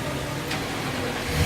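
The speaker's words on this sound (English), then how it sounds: "Engine running under remote start" A Nissan Titan truck's engine runs under remote start, giving a steady low idle rumble with a slight rise near the end and no voices.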